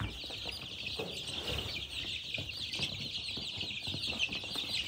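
Chickens and chicks on a village farm cluck softly and repeatedly in a quiet yard, low and steady with no voices.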